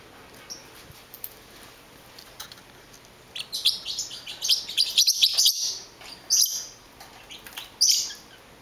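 Pet parrotlets chirp in quick, bright bursts during cage cleaning, scattered calls that grow busier and louder through the second half over a quiet indoor background.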